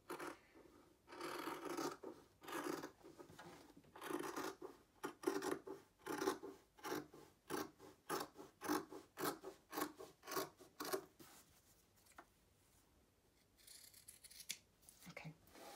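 Scissors snip through a fabric band for a surgical cap, a steady series of about a dozen close, rasping cuts over several seconds, then a brief pause and a softer fabric rustle, with no voices.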